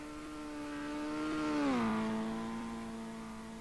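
A race car in the Glava Zete hill climb passes by, its engine note swelling as it nears, dropping in pitch as it goes past, then fading steadily with no voices.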